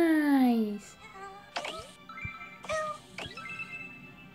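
A cartoon cat meows in the mobile game Kitty in the Box 2: a loud, falling meow opens the moment, followed by short game chimes and sliding tones at a close, moderate level.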